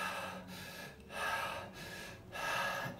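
Shallow upper-chest breathing demonstrated at close range, three rhythmic inhales rising up into the neck separated by short pauses, breathy and audible with no speech.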